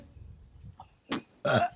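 A loud, throaty burp erupts in a comic Marathi sketch set in a school classroom, following a short belch-like grunt, with faint murmuring and room noise underneath.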